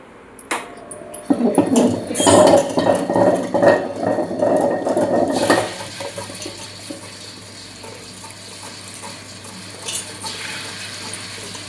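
Wet grinder churning a full load of soaked, washed urad dal for idli and dosa batter, a loud wet swishing and mechanical rumble that fades to a steady low hum, with no voices.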